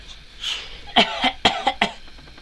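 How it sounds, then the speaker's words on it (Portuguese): A small child lets out a burst of coughs, about five or six sharp, close hacks in quick succession after a brief throaty start, with no talking. "Quem que tá com tosse aí?"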